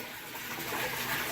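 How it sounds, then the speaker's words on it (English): Water pours steadily into an aquarium during a water change, a continuous hissing rush that grows slightly louder toward the end, with no voices. "Doing another water change."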